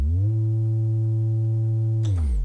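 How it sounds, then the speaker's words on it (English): Sustained bass note sampled from a vinyl record and played back on an Akai MPC 2000 Classic, a steady low tone with slight wobble that holds for about two seconds before its pitch slides down as it ends. "We have a bass sample on vinyl"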